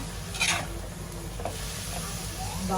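Khova sautéing in oil in a pan, a soft steady sizzle with a few scraping stirs near the start and end, background music running underneath.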